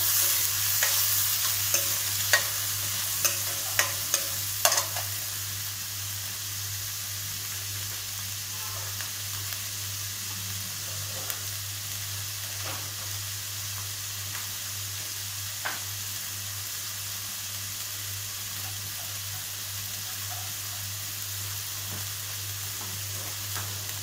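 Whole spices for chenna masala frying in a pan, a steady low sizzle with occasional scrapes and light knocks of a stirring spoon, clustered in the first few seconds, then a quieter continuous fry.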